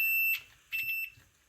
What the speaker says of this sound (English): this is a continuity mode. So it beeps whenever it detects.